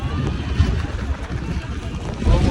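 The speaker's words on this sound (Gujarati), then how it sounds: "એટલો બધો પવન છે ને તો રેનકોટ કંઈ કામ જ નહીં લાગતો" Strong monsoon wind at Saputara, a hill station in Dang, roars steadily across the microphone in low rumbling gusts, with a louder buffet near the end and no clear talk.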